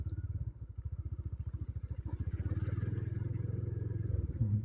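A motorcycle rides through flood water in a village in Barito Kuala, its engine thumping in a fast steady beat that shifts tone midway as the gear changes, close and loud over a low rumble.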